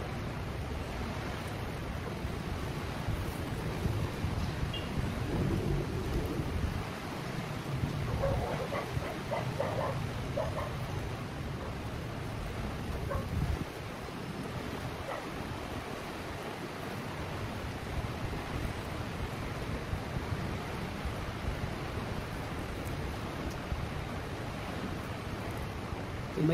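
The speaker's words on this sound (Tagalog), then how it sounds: "May bagyo na naman." Continuous gusty storm wind roaring outdoors beside a cornfield, a broad steady rush with slight surges in strength, loud and unbroken throughout, with no talk.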